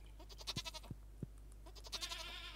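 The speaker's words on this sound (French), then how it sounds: "Mes chèvres ont grandi!" Goats in the Stardew Valley farming video game give several short, soft, nasal bleats in quick succession, heard alone over a low steady hum.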